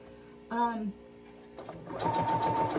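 A sewing machine stitches a shirt, a brief whirring run starting after a short voiced sound, close and steady for under a second and a half, with talking nearby.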